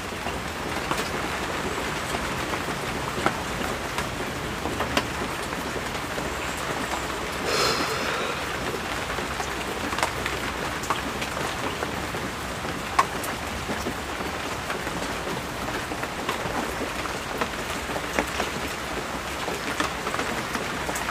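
Steady rain falls without a break, a broadband hiss of drops on surfaces at moderate level that continues evenly for the whole stretch, with no voices.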